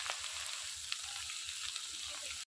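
Radish and browned onion frying in a pan, a steady close sizzle with soft rhythmic stirring scrapes, cutting off abruptly at the end.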